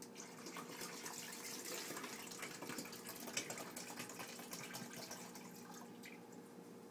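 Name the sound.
water pouring into the back of a coffee pot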